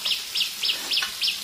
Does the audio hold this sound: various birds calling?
yes